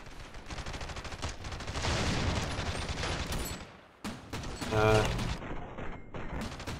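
Rapid automatic gunfire and bursts in the RavenField game during a D-day defense battle, loud and continuous with brief pauses, mixed with mechanical clatter and distant explosions.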